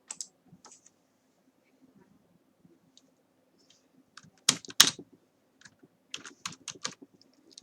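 Keys clatter on a computer keyboard while code is typed, with sparse single taps followed by a dense rapid burst and then scattered quick keystrokes, close and fairly quiet with no talk.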